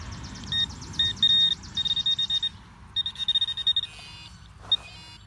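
Metal detecting pinpointer beeping in bursts of high electronic tones, some short and repeated, others held longer, close and fairly clear over low background rumble and handling noise, with a final brief beep near the end.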